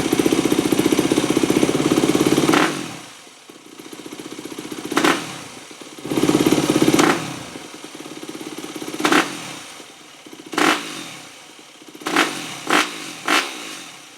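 A Yamaha WR250F dirt bike hot-starts on a stand, then runs and idles with several loud, close throttle blips and revs separated by quieter idling.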